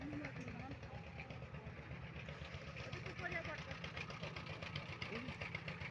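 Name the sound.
trawler boat engine approaching river ghat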